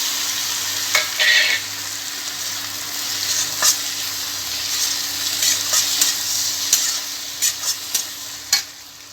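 Tomatoes go into onions frying in a pan, with a continuous bright sizzle and intermittent scraping taps of a stirring spoon, close and steady with no talking.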